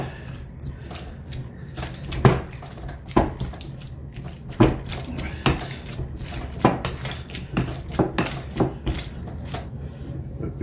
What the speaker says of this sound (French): J'écrase.